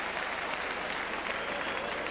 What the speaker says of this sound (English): A big cheer for this popular Western Samoan.